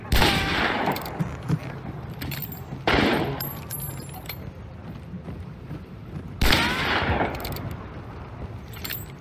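Gunfire in the online shooter game Hunt: Showdown: three loud, sharp shots spaced a few seconds apart, each with a ringing tail, over a steady game ambience.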